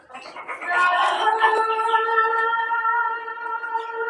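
Chickens and a rooster on a small backyard farm, with a long, loud crow ringing out close by over soft background clucking.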